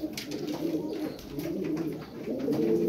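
Tumbler pigeons coo steadily in a loft, a soft low rolling warble from several birds overlapping continuously at close range with no talk.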